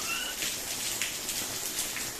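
Steady rain patters and hisses close by, a dense wash of drops with no voices.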